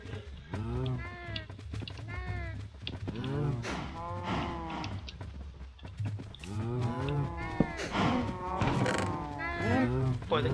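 Many cows moo repeatedly in overlapping calls in Minecraft Bedrock, a busy herd chorus with low mechanical hum behind, fairly quiet overall.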